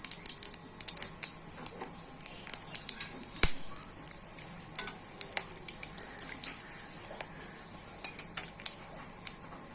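Cumin seeds, bay leaf and whole garam masala spices hit hot oil in a pan, giving a bright, steady hiss with scattered sharp pops and crackles, fairly quiet and close, with no talking.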